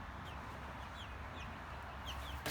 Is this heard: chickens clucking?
yes